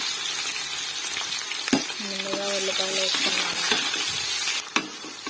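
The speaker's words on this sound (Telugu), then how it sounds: "ముందుగా ఉల్లిపాయలు వేసుకున్నాను. ఇవి మగ్గిన తర్వాత అల్లం వెల్లుల్లిపాయ పేస్ట్ వేస్తాను." Onions frying in a pan for a fish curry, a steady close sizzle with scraping stirring strokes and a few metallic clinks of the spoon against the pan.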